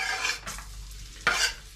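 Sliced onions sizzle in hot oil in a pan, with two short scraping stirs over a steady, close frying hiss; no voices.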